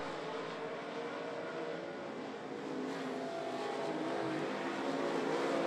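Stock cars race around a short oval at I-75 Raceway, giving a continuous loud roar of engines that swells slightly as the pack passes, with no voices.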